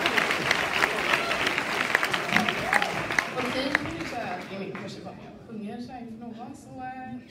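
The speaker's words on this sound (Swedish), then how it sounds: "Ge dem en varm applåd!" Warm audience applause at a school arts concert fills the first few seconds as dense clapping, then fades out while voices and a bit of music or talk rise underneath.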